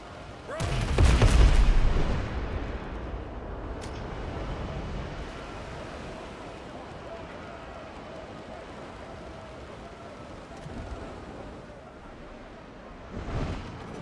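A heavy booming ship's cannon blast in a video game early on, then a long rumbling wash of ambient noise and a second, smaller thud near the end.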